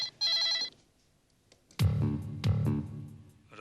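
A short electronic phone ring tone chirps briefly, then a pair of loud, resonant bell-like tones rings out close by.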